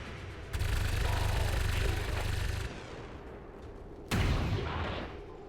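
Heavy automatic gunfire in XCOM 2 erupts in a loud sustained burst of about two seconds, goes quiet, then a second intense volley starts and tails off.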